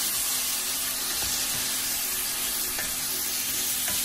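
Ripe tomatoes fry with ginger and garlic in a pan for a Tamil tomato kuruma, giving a loud, steady, close sizzle that holds throughout with no pauses or talking.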